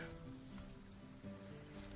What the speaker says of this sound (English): Man, why does this place always raining?